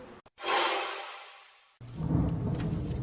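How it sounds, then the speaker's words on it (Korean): Thunder rumbling during rain outside a recording studio, with a sharp crack followed by a long fading roar, then a second heavy low rumble, fairly loud and close with no talk. "밖에 비 오면서 천둥번개 소리가 지금 녹음실을 진동하고 있습니다"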